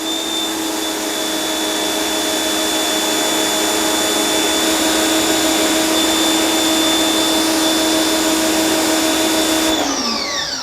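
Steady electric motor whine from a Chemical Guys Pro Flow PM2000 electric pressure washer running with the trigger pulled, loud and continuous with tonal hum, cutting off abruptly near the end.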